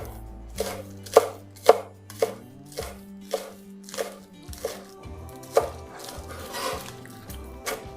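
A knife chops spring onion on a cutting board in about a dozen crisp, evenly spaced strikes, close and clear with no voices.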